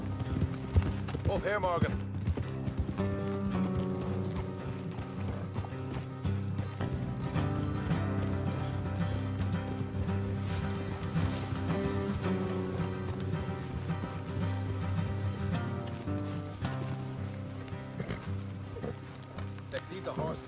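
Horse hooves clip-clop steadily along a trail in Red Dead Redemption 2 as riders travel together, a rhythmic, moderately close patter beneath a musical score and occasional spoken dialogue.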